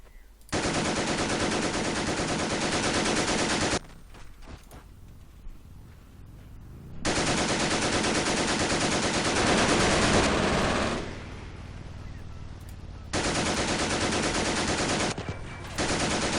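Bursts of machine gun fire in the Company of Heroes strategy game, loud sustained automatic volleys in several long stretches broken by quieter battlefield gaps.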